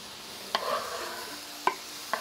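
Chopped onion goes onto gyros meat over a fire barrel, giving a quiet, steady sizzle with a few sharp clicks of a spatula or tongs scattered through it.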